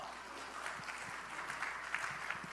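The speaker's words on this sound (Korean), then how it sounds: "박수 한번 쳐주세요" Audience at a church youth winter retreat applauds, a steady even patter of clapping held at moderate, slightly distant level throughout with no voices over it.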